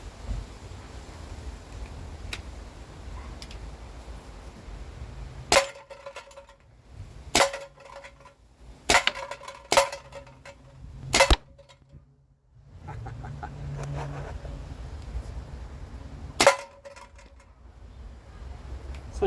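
Glue gun slugs loaded with lead pellets shot at a target, with about eight sharp, separate cracks spaced a second or more apart over faint background noise, two groups of quick shots close together.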